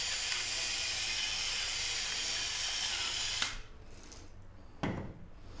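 A pepper mill grinds black pepper with a steady, close rasping crunch for about three seconds, then stops. A short mechanical rattle follows in the quiet.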